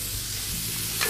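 Garlic and onion frying in olive oil in a hot cast iron skillet, a steady close sizzle with stirring scrapes, brightening briefly near the end, no talk.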